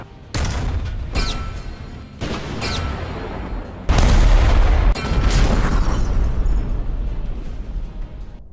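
Heavy tank cannon blasts from a video game, armour-piercing rounds fired one after another as several loud, booming shots with rumbling tails, the strongest near the middle.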